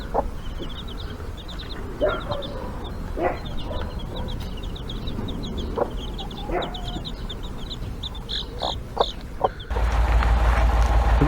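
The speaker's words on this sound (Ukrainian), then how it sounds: "12 в мене курчаток, 4 біленьких і 8 чорних" Chicks peep repeatedly while hens cluck now and then nearby, with a burst of loud rushing noise near the end.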